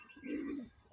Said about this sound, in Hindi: आधे कबूतर वापस यहीं आ गए परली छत से,